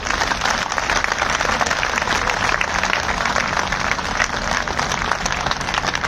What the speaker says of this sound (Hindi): एक बार जोरदार ताली बजाओ अनशनकारियों के लिए।